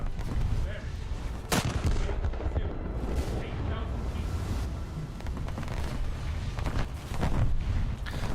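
Heavy naval guns in a warship video game fire at the ship Helena, with booming blasts over a constant rumbling wash of engine and sea noise, one sharp close shot standing out.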